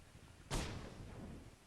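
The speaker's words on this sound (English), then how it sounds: "the explosions in CryEngine, the way we have them set up, not only do they do damage, they also exert a pressure wave" A vehicle explodes in a CryEngine video game: a single sudden, sharp blast with a broad boom that decays into a low rumbling tail, fairly faint and heard alone.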